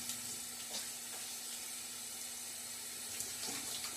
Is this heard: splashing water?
yes